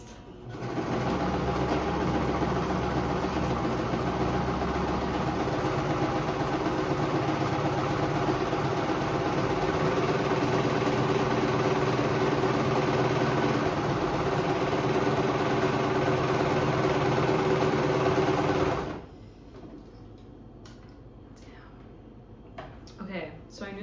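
A sewing machine stitches a tote bag in one long, steady, close-up whirring run that stops abruptly near the end, leaving only a few faint handling clicks afterward.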